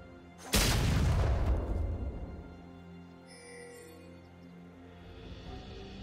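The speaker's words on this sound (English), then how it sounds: "Blue team's turret has been destroyed." A turret is destroyed in League of Legends, a single loud booming blast that erupts suddenly, rumbles heavily for about a second and then decays slowly into a quieter game background, with a few faint chimes afterward.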